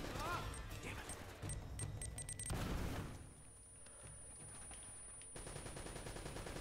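Bursts of turret machine-gun fire in Uncharted: Drake's Fortune, loud and dense for the first few seconds, then easing off before a final stretch, with a game soundtrack and effects mixed in.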